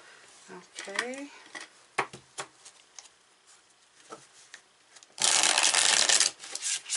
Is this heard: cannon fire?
no